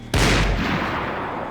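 Gunfire in the video game Max Payne 3: one loud, close gunshot blast cracks out abruptly and trails into a sustained rumbling echo, with no voices over it.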